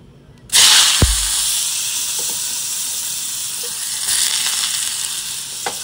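Potatoes fry in a hot pan, the sizzle bursting in loud and close after a quiet start, then holding as a steady hiss with a few faint clinks along the way.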